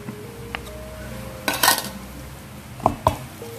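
Buko salad being stirred in a bowl, with a few scraping clinks of a utensil against the dish, scattered and fairly close over a quiet room background.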